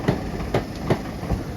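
A Class 325 parcel train, unit 325007, passes through Greater Manchester with a steady rumble and regular clickety-clack wheel beats recurring about every third of a second, fairly close.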